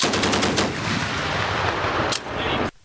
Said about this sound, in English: Strikes after strikes and heavy pounding bangs could be heard at the enemy targeted spot areas.